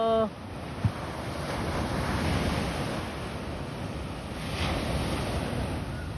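Ocean waves washing up on a beach, heard as a steady wash of surf rising and falling gently, mixed with wind rumbling on the microphone and no voices.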